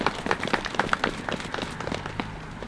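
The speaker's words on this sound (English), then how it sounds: "Let's give the Civil Air Patrol a round of applause." Scattered outdoor applause at a Veterans Day ceremony for the Civil Air Patrol, with loose, uneven claps from a modest crowd fading toward the end.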